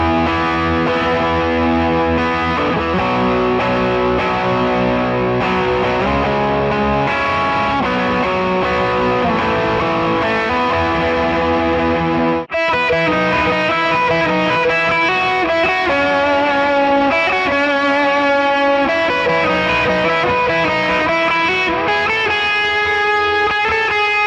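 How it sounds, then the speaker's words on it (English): An electric guitar plays through a pedalboard with reverb and delay turned fully up, giving sustained, distorted chords and notes that wash into long echoing tails, loud and steady with no talking. "So now with full reverb, full delay, maybe like I would use it in a part."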